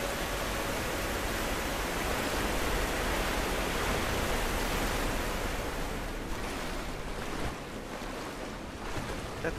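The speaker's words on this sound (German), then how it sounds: "Jetzt steigt der Wasserspiegel und dann müsste ich ja eigentlich gleich hochkommen." Water rising in the Rise of the Tomb Raider video game, a continuous broad rushing wash like surf, steady and fairly loud before easing slightly toward the end.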